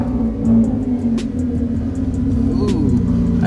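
A car with smoky, worn valve seals rumbles at low speed as it pulls out of a garage, a steady close engine drone with a few clicks and brief noises on top, no talking.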